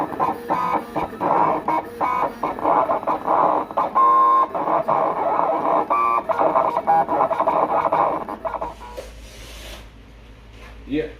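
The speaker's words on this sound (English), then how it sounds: "the machine's cut our logos onto the gloss white vinyl" A vinyl cutting machine cuts small logos into gloss white vinyl, giving a steady buzzing, chattering motor whir with quick stepping ticks that runs for several seconds, then stops, while someone talks over it.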